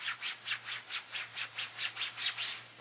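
Synthetic Abercrombie leggings fabric rubbing in steady, rhythmic swishes, about ten even strokes close by like thighs brushing while moving, with a low steady hum underneath.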